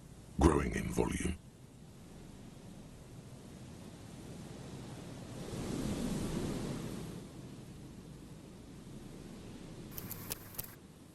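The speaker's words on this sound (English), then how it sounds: "Her voice is drowned in white noise. Sounds like waves washing a beach, growing in volume." In the video game Disco Elysium, a voice on a payphone is drowned in white noise like waves washing a beach. A soft, steady hiss swells to a louder surge midway, then eases back, with brief sharper bursts near the start and end.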